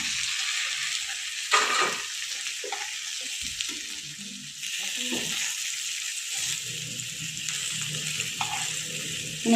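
Spiced gathi kochu (taro) slices fry in a pan with a soft, steady sizzle, broken by occasional utensil scrapes and small clatters close by.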